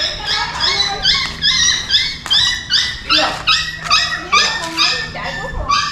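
Several dogs bark, yip and whimper in rapid repeated bursts, close and loud, with people talking underneath throughout.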